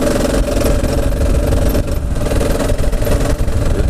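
A KLR 650 motorcycle ridden through sand, its engine droning loud and close under the throttle with rough, steady rumble and wind buffeting, no talking.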